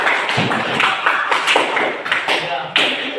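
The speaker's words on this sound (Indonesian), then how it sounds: "tepuk tangan dulu." A group of people clapping their hands at a school training session, close rhythmic claps in loose unison, loud and fairly even.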